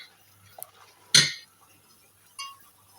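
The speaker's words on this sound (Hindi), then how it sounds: "हम अपने पालक को मिक्स करते चले जा रहे हैं।" Spinach and meat being mixed in a large cooking pot for palak gosht: a few scattered metal clinks and scrapes of a utensil against the pot, one louder knock, then a softer clink, close, with no talking.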